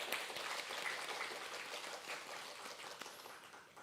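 Sustained applause from a church congregation for the choir after a hymn at a Wednesday prayer service, a dense, steady patter of many hands held at moderate distance without a break.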